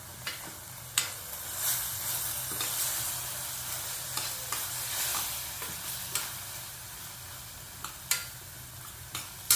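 Mint and coriander being sautéed for tomato rice made with coconut milk, a soft steady sizzle with occasional sharp clinks of a stirring spoon against the pan.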